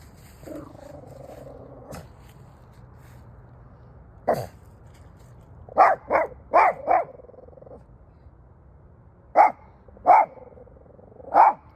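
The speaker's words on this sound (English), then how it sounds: "Quit barking." A dog barks in short bursts nearby, with quick pairs and triplets of sharp barks separated by quiet pauses, and a low hum underneath.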